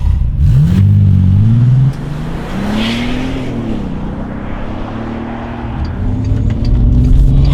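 A 2006 Bentley Continental GT with a twin-turbo W12 accelerates hard, its deep engine note rising through the revs, dropping briefly at a gear change, then climbing again, loud and close from inside the car.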